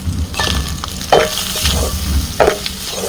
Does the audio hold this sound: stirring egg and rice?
yes